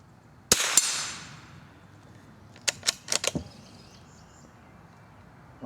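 Sharp .22 rimfire gunshots aimed at bunny rabbit targets: one crack near the start with a lingering tail, then a quick cluster of four or five snappy shots about two seconds later, outdoors with no talking.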